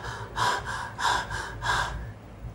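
A doctor imitates a child's rapid breathing, with three quick, loud, breathy in-and-out gasps in an even rhythm, close to the microphone and with no talking over them.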